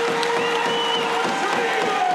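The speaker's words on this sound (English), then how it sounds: "you can just hear how behind him the crowd is as well" Basketball arena crowd at a championship game between Newcastle Eagles and Surrey 89ers, cheering and applauding loudly and continuously after a player's score, with a tonal hum running underneath.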